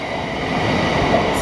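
Train rumbling at London St Pancras International low level station, a steady loud drone throughout with no talk.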